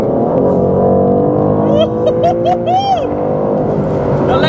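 An Aston Martin DBS 770 Ultimate pulls hard at full throttle from the cabin, its engine roaring steadily and loud with rising tones and quick upshift blips.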